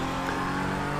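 A Lamborghini Sesto Elemento races in the video game Project CARS 2, its engine a loud sustained roar under hard acceleration for about a second, with no talking.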